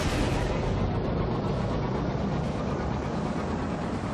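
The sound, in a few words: enemy ships shooting at the player in a space video game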